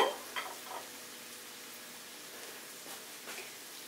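Fish laid into a pan of hot oil and butter, an initial burst of sizzle that settles into a steady soft frying hiss, close and fairly quiet, with a few small clinks.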